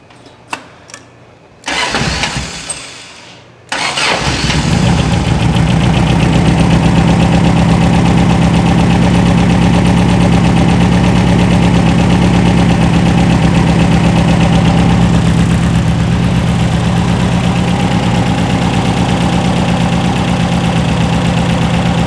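A 1970-ish sand rail's 2.2L engine on dual 44 IDF carburetors cranks briefly, catches and fires up, then settles into a loud, steady, rough idle that runs on alone without talk.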